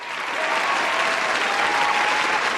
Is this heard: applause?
yes